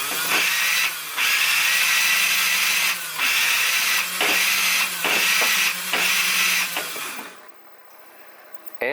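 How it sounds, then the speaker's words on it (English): Flywheels on a Nerf Prometheus blaster spin up in repeated loud, high whirring bursts with brief dips between them, then wind down and fall quieter near the end, with no one talking. "So hopefully you can see there the flywheels are running"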